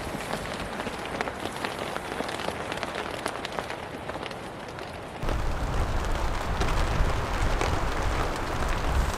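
Steady rain patters and hisses on a tent during a rainstorm, growing heavier and louder partway through, with no voices.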